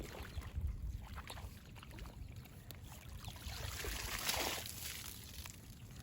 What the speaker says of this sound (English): I'm going to be scooping along the edges of our wetland